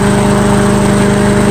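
Briggs and Stratton lawn mower engine, just after a carburetor repair and oil change, running at high speed: a loud, close, steady rapid drone with an even pulsing beat and no talk over it.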